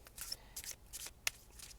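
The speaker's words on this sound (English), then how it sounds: "I probably will do a few more shuffles before I pull." Tarot cards are shuffled in a few quick, soft riffles close by, with short pauses between each pass and a sharp snap near the end.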